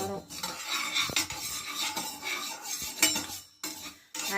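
Coriander and spices dry roast in a pan for idli podi, with a metal spoon scraping and clattering against the pan in quick, busy strokes, close and fairly loud, with no sizzle of oil and no talk.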